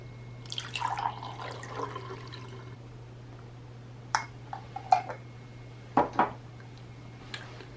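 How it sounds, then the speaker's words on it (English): Cranberry juice poured into glasses through a funnel, heard as a few short splashes and drips at quiet, close range over a steady low hum, with bursts of liquid spaced apart rather than a continuous stream. "pour some of the cranberry juice in each cup"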